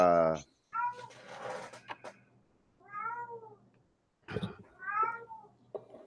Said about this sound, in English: Is that cat in heat? It's like meow.